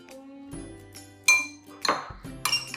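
A spoon mixing fruit in a bowl, berries for kids' parfaits, makes a few separate metallic clinks and scrapes against the dish, quiet and spaced, with sharper knocks toward the end.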